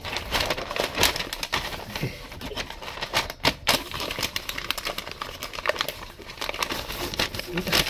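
Paper is handled and crumpled close up, with irregular crinkling and rustling bursts and a few sharper crackles throughout.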